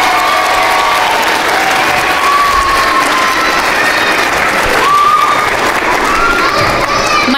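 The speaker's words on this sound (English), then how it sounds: "Can we have a round of applause for all of the fantastic groups that have played this evening?" An audience at a high school music concert claps loudly and continuously, a dense wash of applause with scattered cheers and shouts running through the whole stretch.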